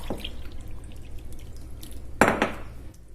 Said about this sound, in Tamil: இது கூட இதே கப்ல 7 கப் அளவு தண்ணி ஊத்திக்கலாங்க.